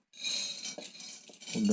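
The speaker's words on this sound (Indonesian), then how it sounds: "Untuk pendinginannya saya taruh di piring ini aja." Freshly roasted coffee beans, taken off a Teflon pan near dark roast, tipped onto a plate to cool, making light rattling clinks and plate contact sounds, close and soft, ending in a louder clatter.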